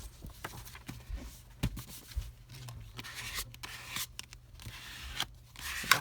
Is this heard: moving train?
no